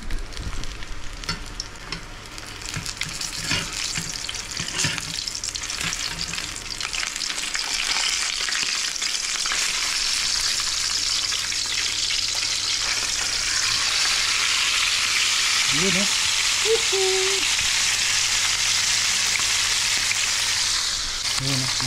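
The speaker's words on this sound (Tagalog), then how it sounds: "Habang piniprito natin to." Food sizzling and frying steadily in a hot pan for a home-cooked meal, with stirring and occasional clinks, a constant close hiss that continues throughout.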